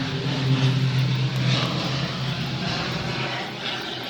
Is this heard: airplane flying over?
yes